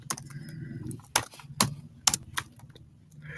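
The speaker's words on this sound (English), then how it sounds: "let me type it" Separate sharp keystrokes on a computer keyboard tap out in an uneven rhythm, close and clear against a quiet room hum.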